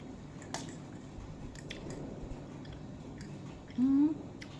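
Close, wet chewing and squishing of khanom jeen rice noodles during a meal, soft and irregular, with a brief louder tonal vocal sound near the end.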